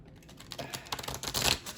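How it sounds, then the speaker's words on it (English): Stiff tarot cards riffle and slap together in a short shuffle, a quick series of soft crisp clicks and flutters growing slightly louder near the end, close and quiet with no voices. "If I can shuffle these."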